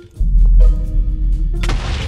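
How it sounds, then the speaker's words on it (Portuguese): A TNT explosion in the Minecraft video game lets out a loud, deep boom with a rumbling tail and then a second burst of crackling debris noise, heard without talk. "Olha a explosão ali."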